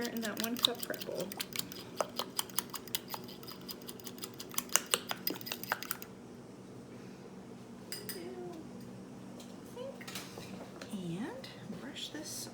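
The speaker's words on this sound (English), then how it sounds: "Love my little mini whisk. No job too small for the mini whisk. Right down in there in that 1 cup prep bowl." A mini whisk rattles and clinks quickly against a small 1 cup prep bowl, sharp close taps for several seconds, then softer scraping and stirring under a quiet kitchen background.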